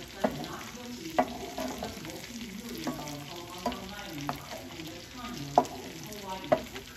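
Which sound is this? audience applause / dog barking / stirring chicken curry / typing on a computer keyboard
stirring chicken curry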